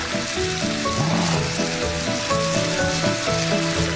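Shishito peppers simmer in a pan with a shallow pool of sauce, a steady, loud sizzling and bubbling that runs without a break, with no one speaking.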